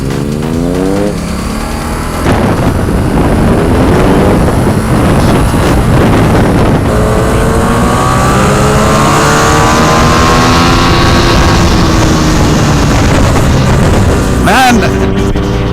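A 2017 Ducati XDiavel motorcycle on the road, its engine revving and rising in pitch through acceleration under heavy wind buffeting, loud and close, with a quick gear change near the end.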